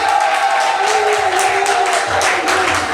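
Wedding guests applauding at an official marriage ceremony, a steady wash of many hands clapping under crowd murmur, with a sustained tone running through it.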